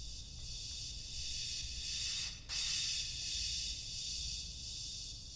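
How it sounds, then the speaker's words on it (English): A delayed crash transition effect in an Ableton Live production of a synth-pop cover: a sustained bright, hissy cymbal-like wash that briefly cuts out mid-clip before swelling back in, steady and loud without any voice. "Second effect is what I call delayed crash."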